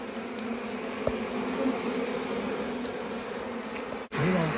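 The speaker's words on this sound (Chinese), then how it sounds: "轻轻的把这个蜜蜂给它扫掉，很小心的把这个蜜蜂给它摘下去。" Honeybees buzz steadily around honeycomb being harvested high in the mountains, at roughly 3500 m altitude, with a dense continuous drone that stays close and loud the whole way through.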